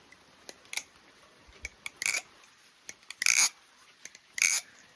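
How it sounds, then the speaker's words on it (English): A balisong clone with wooden channel spacers flipped by hand, giving a scattered run of sharp clicks and clacks, close and clear, with a few louder bursts of rattling latch and handle impacts and no talk. "And then I made these wooden channel spacers for this amazing sound."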